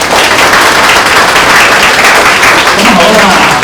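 Loud, sustained audience applause fills the hall at a primary school's closing ceremony for upper-grade pupils, dense steady clapping from many hands throughout.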